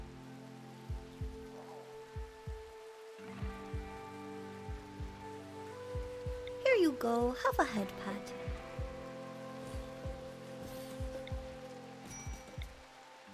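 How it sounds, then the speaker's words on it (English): Rain in the video game Rimworld, a steady soft patter under someone talking, with a faint musical background and scattered tapping ticks throughout. "We have rain for the first time in a long time."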